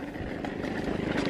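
A motorcycle engine putters steadily at moderate distance, a low rumbling drone with a slight build in loudness.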